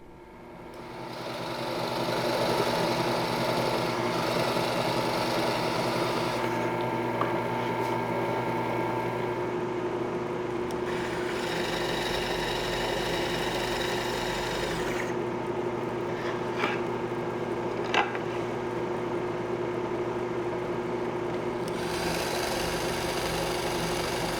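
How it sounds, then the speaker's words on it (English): A power drill boring 1/2-inch holes partway into an ash wood board, a steady droning motor whine that runs continuously with slight shifts in pitch. "Then I'll drill 1/2-inch holes partway through the wood."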